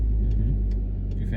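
A manual car's engine holds a low, steady hum and rumble during a hill start. The sound is brief and close, with no rising rev to be heard.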